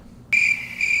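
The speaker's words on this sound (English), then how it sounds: "Motherfucking crickets." Cricket chirping sound effect: after a brief quiet, a sudden steady high trill starts and carries on loud and close, alone with no voices.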